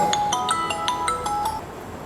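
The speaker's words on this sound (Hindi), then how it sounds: "सॉरी यार, फ़ोन आ गया, पूरा 2 मिनट लिए मेरा" A mobile phone ringing with an incoming call, a bright electronic ringtone of repeated short melodic beeps in a steady pattern, loud and close with no talk over it.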